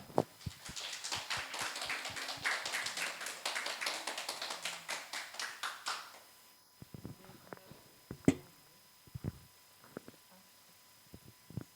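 An audience at a church summer retreat applauds to welcome a speaker for an environmental lecture during a Sunday service: about six seconds of dense clapping, then scattered taps and knocks in a quiet room.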